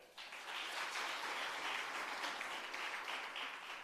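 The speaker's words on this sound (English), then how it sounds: "Can we have an applause for that?" A crowd applauds a guest introduced at a hybrid capacity-building workshop, a steady wash of clapping that swells quickly and holds for about four seconds with no talk over it.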